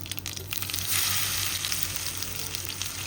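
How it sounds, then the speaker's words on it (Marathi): Mustard seeds, cumin and crushed garlic sizzling in hot oil, a quiet steady crackling hiss that swells briefly, alone without speech. "तेल पण मस्त गरम झालेले, याच्यामध्ये आपल्याला मोहरी घालायची."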